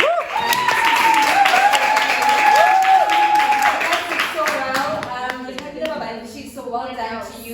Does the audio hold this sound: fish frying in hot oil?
no